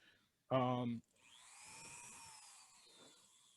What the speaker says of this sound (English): I start with the basic sanding stuff on the Dremels